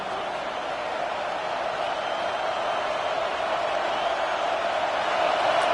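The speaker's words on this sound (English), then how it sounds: "Here comes this home crowd as the defense tries to get off the field on 3rd down." A home crowd at a Penn State football game rises in a broad, sustained roar that swells slightly toward the end, with commentary voiced over the noise.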